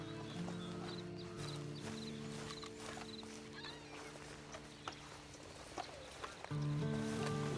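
A horse's hooves clip-clop steadily as it is ridden in the video game Red Dead Redemption 2, soft and mid-distance beneath a sustained musical drone, with occasional louder hoof strikes.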